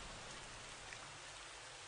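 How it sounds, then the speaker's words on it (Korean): A sudden rain shower pouring onto an iron plate, a dense steady hiss of drops drumming without pause, fairly faint and even. "철판 위로 마구 떨어지는 소나기 소리"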